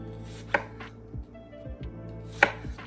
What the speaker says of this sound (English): So we gotta slice up our peppers and onions and everything.